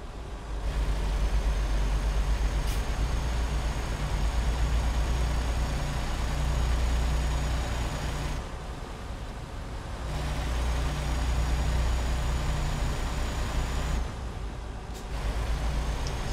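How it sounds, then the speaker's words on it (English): Truck engine in American Truck Simulator, a loud, steady low diesel rumble with open cab windows that drops twice into short quieter gaps, with faint hisses over it that could be air brakes. "So now you can really hear the engine and all that stuff"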